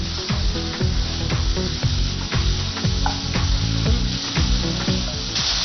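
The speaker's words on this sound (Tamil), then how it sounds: "இப்பயும் எடுத்து நம்ம கிளறி விடலாம்." Vegetables and cabbage are stirred in a hot pan, giving a steady, close sizzle with repeated scraping and rubbing strokes throughout.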